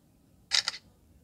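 A Samsung Galaxy A32 rear camera shutter fires once, a short soft double click over a faint quiet background.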